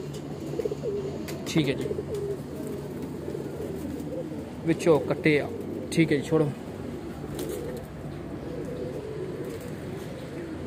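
Kept pigeons of Weshi, Kansani and Sialkoti breeds coo softly in a loft, with a low steady murmur and a few clearer coos in the middle, while people talk over them.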